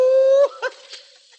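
A voices a dog imitation, a short drawn-out howl-like note followed by a couple of quick yelps, loud and close, fading out quickly.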